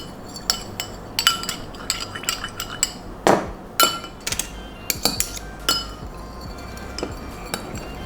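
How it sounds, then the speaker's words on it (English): Spoon stirring a sauce with chili sauce in a bowl, a series of sharp irregular clinks and scrapes against the bowl, close and fairly loud, with no talking. "we're just gonna stir it all together"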